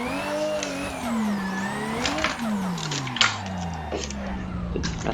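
A Toyota Supra's engine howls through a drift in a racing video game, its pitch sweeping up and down with gear changes as tires scrub, loud and continuous with no talk.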